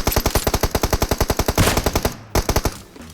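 Automatic gunfire in the mobile game PUBG Mobile: a loud, rapid burst of about twenty evenly spaced shots, a short gap, then a second brief burst that trails off.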